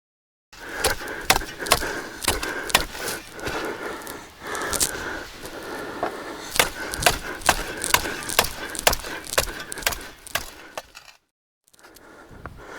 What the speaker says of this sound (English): you're going to cut around that sample pan with a shovel